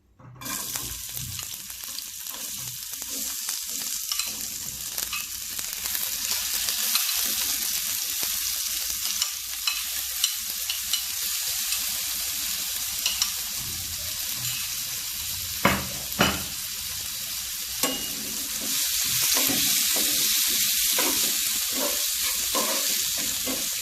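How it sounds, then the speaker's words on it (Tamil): Onions frying in hot oil in a pan give a steady, loud, close sizzle throughout, with occasional spatula scrapes and clinks, and a brief burst of stronger hissing toward the end. No one speaks. "ஆயில் சூடானதும் வெங்காயம் போட்டுக்கலாம்"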